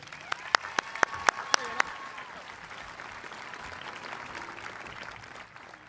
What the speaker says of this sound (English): Please applaud and recognize this year's Avid standout, Nirali Bendera.